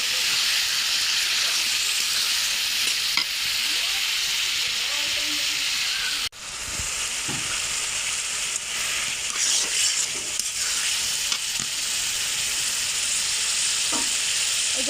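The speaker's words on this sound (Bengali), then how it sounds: "কলিজাটা কষানো হয়ে গেছে ভালোভাবে। এই যে তেলও ছেড়ে দিয়েছে" Beef liver being stir-fried in oil, cooked with chickpea lentils, sizzles and hisses steadily up close, with a brief break midway and occasional scraping stirs; a voice talks faintly at times.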